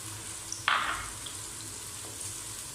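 A burst of loud sizzling erupts as wet tomato paste hits a hot pan, then settles into a softer, steady fry with a faint clink.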